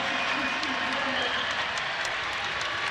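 A basketball arena crowd roars during a tight VCU versus Samford game, a dense, continuous wash of cheering and noise at steady volume with no clear breaks.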